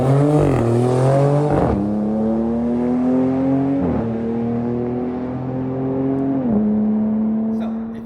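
A 2026 Dodge Charger Scat Pack with an inline-six engine revs loudly and close, the pitch climbing and dropping through several gear-like steps over a steady, sustained drone.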